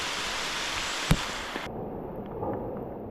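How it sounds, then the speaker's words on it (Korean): Steady rain falls during a wet mountain hike in Seoraksan, a continuous hiss of drops on foliage and ground, with one sharp close tap partway through and the wash of rain softening afterward. "11시가 지났건만 빗소리는 전혀 줄어들기미가 안 보인다"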